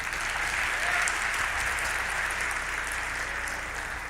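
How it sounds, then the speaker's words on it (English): Steady, dense applause from an audience at a school fall sports awards ceremony, sustained at an even level throughout with no pauses. "you can give him a round of applause."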